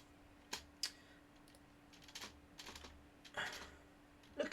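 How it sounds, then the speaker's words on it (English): A new computer keyboard being typed on: soft, irregular clusters of key clicks at close range against a quiet background hum, with no talking. "I've got a new keyboard for Christmas, and it's I'm getting used to it."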